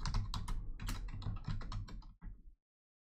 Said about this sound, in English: And then we need to type our password here.